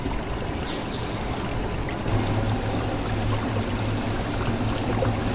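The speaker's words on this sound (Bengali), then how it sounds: "তো তেল যোগ করে নিচ্ছি মাছগুলো ভেজে নেব" Oil is poured into a hot pan for frying fish, a continuous liquid pouring stream that runs steadily and loudly nearby, with no speech.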